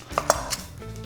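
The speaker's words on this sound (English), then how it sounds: "So I'm just gonna cut the edges off the onion." A knife trims the edges off an onion on a kitchen board, giving two or three close sharp clicks and taps against the surface in quick succession, with no talk.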